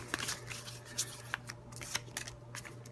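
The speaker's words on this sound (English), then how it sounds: "you're going to shuffle up the movement cards" Movement cards for the Onitama board game are shuffled by hand, a quiet series of quick papery riffles and taps in an irregular rhythm, faint and close with no talking.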